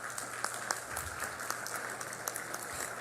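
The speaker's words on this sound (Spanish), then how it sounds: "eso merece un aplauso" A panel audience at an event on judicial elections claps in steady, moderately distant applause that continues throughout.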